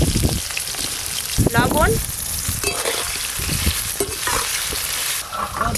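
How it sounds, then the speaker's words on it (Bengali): Potatoes fry in hot oil over a clay stove, a loud, continuous crackling sizzle with stirring scrapes throughout, while a voice speaks briefly. "ওই একই তেলে আলুগুলোও ভেজে নেব।"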